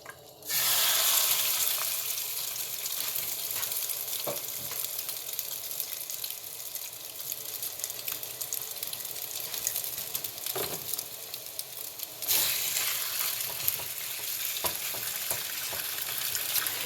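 Mongolian pork fries in oil with cornstarch in a pan on a stove, a steady loud sizzle running throughout with brief stirring and clattering touches, no talking.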